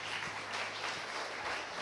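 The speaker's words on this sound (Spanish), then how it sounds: "Dale una ofrenda de palmas al que vive." Church congregation applauding in steady, dense clapping that holds at an even level throughout, close and fairly loud.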